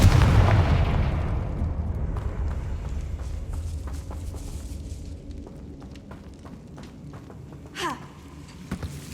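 The Confringo explosive curse goes off in Hogwarts Legacy with a heavy booming blast that rolls out and slowly fades, followed by scattered small pops and a short whooshing effect near the end.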